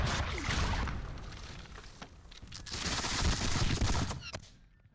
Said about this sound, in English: The Focada regiment will push on and exchange fire with them.